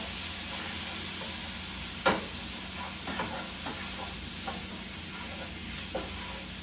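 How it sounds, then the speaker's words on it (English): Poblano peppers and mushrooms steam and sizzle in a hot pan after a splash of water, a steady hiss with a few sharp knocks and stirring clicks scattered through it. "We're going to need a little bit of water to do a little steaming here"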